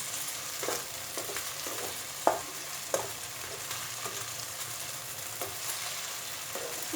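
Stuffed okra in onion masala fries on a low flame, a steady soft sizzle with a few sharper clicks and scrapes of turning, fairly quiet and close, with no talking.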